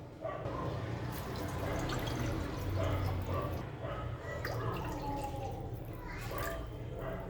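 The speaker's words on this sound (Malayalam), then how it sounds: "അപ്പോൾ ഇതിന് തന്നെ 2 കപ്പ് വെള്ളം ഒഴിക്കാം." Two cups of water pour into a pan for vermicelli kesari, a continuous splashing, gurgling stream lasting several seconds at close range.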